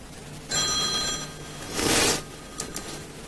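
A telephone bell rings in two loud, buzzing bursts, the second stronger than the first. A few faint clicks follow in an otherwise quiet room.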